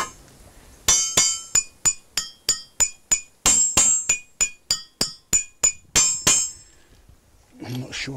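A hammer taps repeatedly on a resonant object, a steady run of sharp, ringing metallic strikes at an even rhythm, loud and close, ending with brief handling noise.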